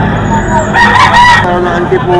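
A White General gamecock nearly three years old crows loudly close by, one drawn-out call rising in the middle with light chatter and other fowl around it.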